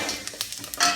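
Cumin seeds crackle and pop in hot oil in a pan, with a few separate sharp pops spread through the moment and a brighter burst of sizzling toward the end, heard close and alone.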